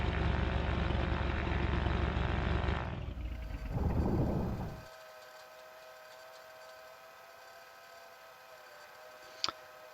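An SF260 aircraft's engine drones loudly after the mixture is leaned, then sputters briefly and winds down to a quiet hum, with a sharp click near the end.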